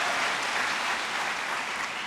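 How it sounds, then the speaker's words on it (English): An audience at a tech conference presentation claps in a steady, even wash of applause, moderately loud and unbroken, with no talk over it. "Can we get a clap for LabVIEW style?"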